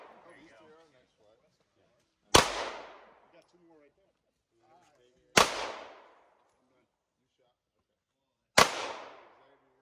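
Three sharp, loud gunshots ring out at a shooting competition, evenly spaced a few seconds apart, each cracking out and fading with a short echo, with people talking quietly between shots.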